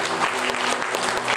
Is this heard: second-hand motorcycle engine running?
no